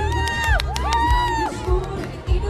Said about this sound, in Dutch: Applaus, applaus.